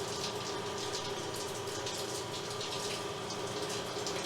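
Steady water running and gushing into a bathroom drain, a constant close hiss with light splashing that holds at an even level throughout, with no voices.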